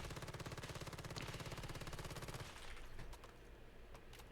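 An MP7 fires in the Once Human video game, a rapid, even stream of automatic shots rattling for about two and a half seconds before cutting off into fainter scattered clatter and impacts, with no talk.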